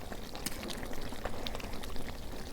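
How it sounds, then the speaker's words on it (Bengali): Water splashes and pours into a pan of desi chicken being sautéed for khichuri, a steady liquid pour over a continuous sizzling bed, close and fairly quiet. "তার অল্প পানি দিয়ে আমি ভালো করে কষে নেই।"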